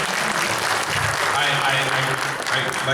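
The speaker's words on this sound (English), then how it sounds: "You guys can applaud if you ever want to." Audience applause fills a convention hall during a panel with the Fairly OddParents voice actors, a steady, dense wash of clapping with crowd noise and some voices mixed in.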